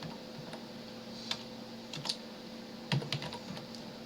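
A computer keyboard taps out a short search term in quick, irregular bursts of close, quiet keystrokes against a faint steady background hum.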